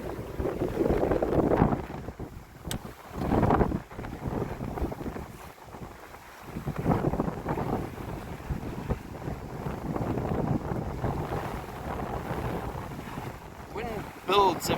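Steady wind rushes and buffets the microphone aboard a small 14'6 gaff-rigged Post Boat sailing off Greece, with water and hull noise gusting throughout and no speech.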